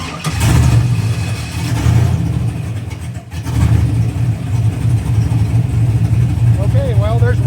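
A warmed-up Pontiac GTO engine cranks and restarts, then runs loud and close with a steady, slightly fluttering idle and a brief dip partway through.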